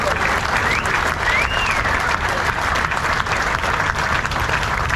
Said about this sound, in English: that is definitely worth a round of applause